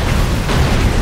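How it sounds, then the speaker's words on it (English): A gas tank explodes in the side-scrolling action game Broforce, a loud, dense, roaring blast that fills the short moment with rumbling noise. "hit the freaking gas tank"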